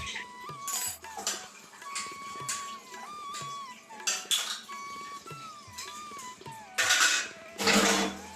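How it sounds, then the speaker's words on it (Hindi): Dishes and utensils are washed in a home kitchen: scattered clinks and clatters of pots, plates and cutlery come close and irregular, with bursts of running water near the end and no talk. "जो बर्तन रखे हुए थे फिर मैं उनको भी अच्छी तरह से धो लेती हूँ"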